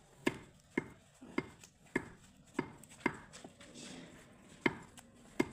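A butcher chops meat with heavy, evenly spaced cleaver strikes, about ten sharp thuds over several seconds, close and clear with no talk.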